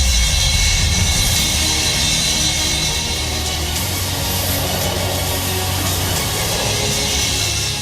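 A Sukhoi Su-30MKI fighter jet engine, stationed in Arunachal Pradesh, gives a loud, continuous broadband roar that holds steady with no pauses.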